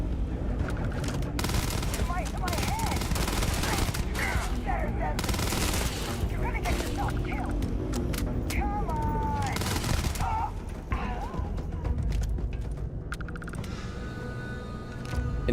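A 4-round burst-fire gun in the video game Starfield fires repeated rapid volleys of loud gunshots across the whole stretch, with short gaps between bursts and faint game sounds mixed in.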